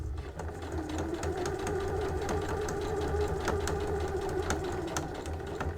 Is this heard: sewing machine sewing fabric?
yes